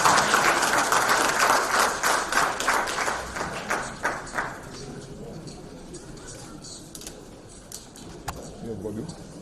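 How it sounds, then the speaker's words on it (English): An audience applauds at a live diaspora event in Detroit: dense, loud clapping for the first few seconds, then thinning and fading to scattered claps and room noise. "let's give him a round of applause"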